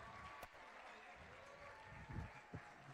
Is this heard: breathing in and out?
no